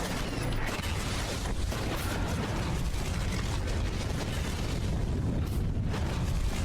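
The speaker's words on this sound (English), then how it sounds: "Good god, what the hell did I blow up in here? I blew up a toilet." A toilet blown up in Dragon Age II, a video game, gives a loud, sustained explosive roar with crackling debris and rumble that fills the scene without letup.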